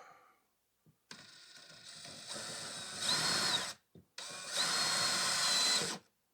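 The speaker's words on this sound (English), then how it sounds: "Drill noises, and" A power drill bores a hole through a Pelican case, whirring in two long close bursts that rise in pitch and strain as the bit bites, separated by a short pause.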